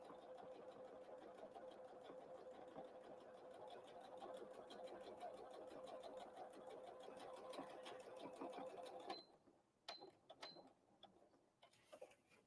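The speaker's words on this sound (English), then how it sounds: "And we're just going to sew this right closed now." A sewing machine runs steadily as it stitches Christmas tree fabric napkins closed along the edge, then stops, leaving a few brief clicks and short bursts of stitching.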